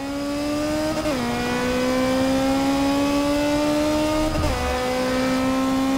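Ferrari Challenge Stradale in Forza 7 accelerating hard, its engine a loud, sustained high-revving tone that climbs steadily, broken by two quick gear shifts, close and with no talking.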